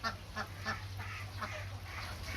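Serati ducks, a muscovy crossed with local domestic ducks, give a run of soft, rhythmic quacks and hoarse calls over a low steady hum, fairly quiet and close in a penned enclosure.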